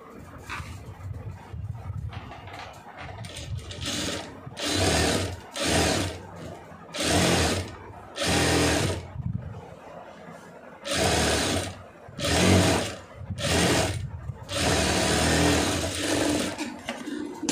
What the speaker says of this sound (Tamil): இப்போ இதில் வந்து தையல் போட்டுக்குவோம்.